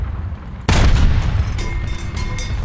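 Tank cannon fire in War Thunder with an A13 Mk I in a ground battle: one sudden loud boom, then a rumbling decay with scattered distant shots behind it.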